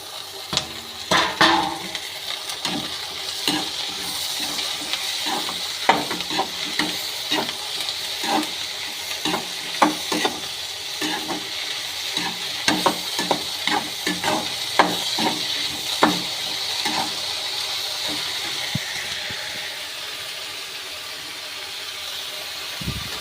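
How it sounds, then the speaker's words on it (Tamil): Coriander, mint and tomato sizzle in hot oil for an idli chutney, a constant close frying hiss with frequent scraping clicks of a spoon stirring the pan. "இந்த மல்லி புதினாவும் எண்ணெயில் வணங்குறது அவ்வளோ வாசனையாக இருக்குது."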